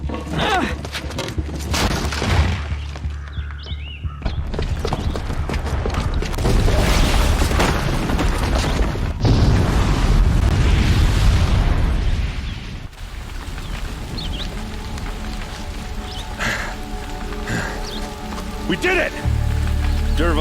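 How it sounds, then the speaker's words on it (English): A booby-trapped bomb explodes in the video game Horizon Zero Dawn, a loud sustained roar of blast and debris rumble with dense crackling, then a dimmer aftermath under game sounds. "the booby trap on the bomb downstairs is gonna get set off"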